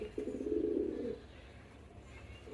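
A pigeon coos once, a low rolling call about a second long, close and fairly soft against quiet room noise with no talk.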